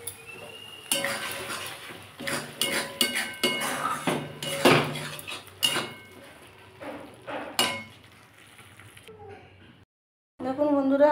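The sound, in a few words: serving onion prawn curry from the pan into a bowl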